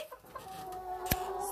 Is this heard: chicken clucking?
yes